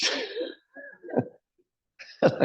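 Several rough coughs and throat-clearing sounds in short bursts, close by, separated by brief pauses.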